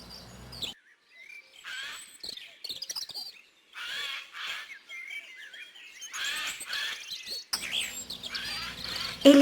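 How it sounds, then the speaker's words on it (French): A common chaffinch sings repeated bright, rapid phrases ending in a flourish, clear and fairly close, with short pauses between songs and no voices. "Un pinson des arbres enchante nos oreilles de sa belle ritournelle"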